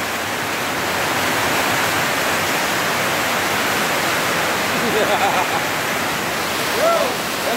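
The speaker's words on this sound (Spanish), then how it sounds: "¡Pues está lloviendo ya!" Heavy rainstorm in Zapotitán: a steady, loud, dense hiss of downpour that runs unbroken throughout, with faint voices surfacing briefly near the end.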